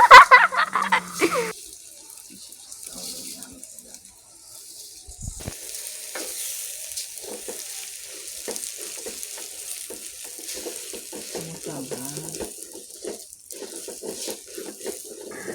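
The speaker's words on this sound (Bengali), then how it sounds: "এখানে পোলাও রান্না করা হচ্ছে" Pulao cooking in a pot together with a home-raised desi chicken: a soft, steady bubbling sizzle with faint stirring and clinks, following a louder clatter at the start.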